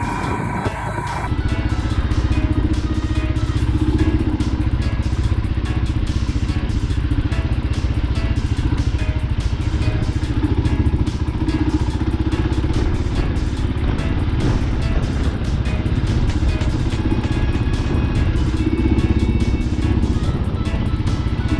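A 2022 Royal Enfield Himalayan motorcycle ridden on dirt for the first time, with a steady, close engine rumble and wind roar plus scattered crunches and rattles from the rough ground, continuous throughout.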